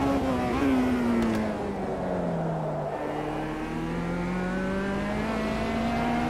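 Race car engine in the Automobilista racing game, a steady loud drone with rising and falling harmonic pitch as the car accelerates and shifts, continuous throughout with no talk.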